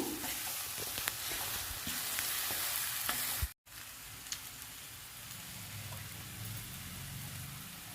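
Coconut and dried red chillies fry in a pan, giving a steady close sizzle with light stirring scrapes, broken by one brief dropout midway.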